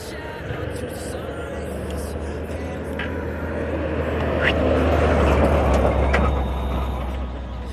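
A truck rumbles past on a dirt road, a deep, heavy engine drone that swells louder toward the middle and lingers, with faint higher clanks over the steady low roar.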